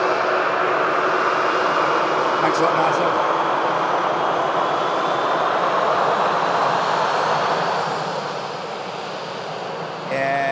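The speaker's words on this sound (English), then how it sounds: "Pretty plane." A fixed-wing airliner at Manchester Airport, a loud, sustained jet engine roar that holds steady and then slowly eases off, with a brief voice over it.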